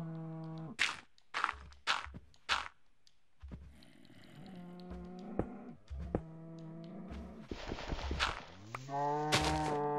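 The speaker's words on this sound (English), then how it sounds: "Mr. Cow, do not get in here." Minecraft cows moo repeatedly in a blocky game world, a series of loud, drawn-out lowing calls with some short thuds and footstep clicks in between, no talking.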